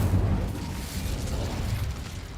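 An Incendio fire spell erupts in Hogwarts Legacy: a dense, rumbling blast that roars loudly from the start and holds as a steady, throaty whoosh, slowly easing across the whole stretch.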